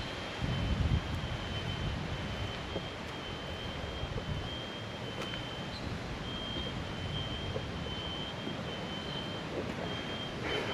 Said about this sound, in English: The sound of smoke alarms disconnected.